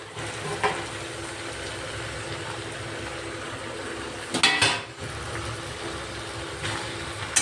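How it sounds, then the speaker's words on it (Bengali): Fried vegetables, along with lentil dumplings, go into a pan of oil-cooked spices for a Bengali shukto, giving a steady low sizzle with metal-on-pan clatter and scraping bursts as they are tipped in and stirred. "এবার আমি দিয়ে দেবো ভেজে রাখা সবজিগুলো, ঢেলে দিয়ে দেবো"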